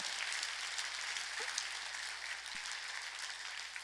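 A church congregation applauding during a Sunday worship service, a broad, steady wash of many hands clapping together, fairly faint and distant.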